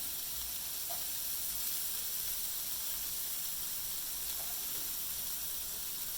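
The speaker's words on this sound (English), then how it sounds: "as my butter has melted, I'm going to put in my onion" Onion sizzling in melted butter in a pan, a steady soft hiss with faint crackles running evenly throughout, no talk.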